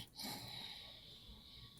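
A caller snoring over a phone line: one long, faint, wheezy snoring breath with a raspy hiss, heard through thin telephone audio with a steady background hum.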